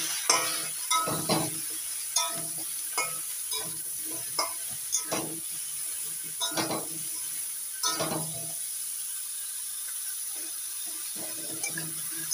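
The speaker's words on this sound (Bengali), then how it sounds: "সবগুলো সবজি ভালো করে ভেজে নিয়েছি" Mixed vegetables fry in a pan under a steady background sizzle, while a spoon repeatedly scrapes and stirs them in short irregular bursts, close and clear, fading to quieter sizzling near the end.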